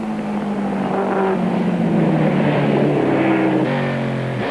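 A modified V8 Opel Record racing car at the Killarney circuit in South Africa, 1994, roars steadily and loudly throughout, its engine note shifting in pitch as it drives on the track.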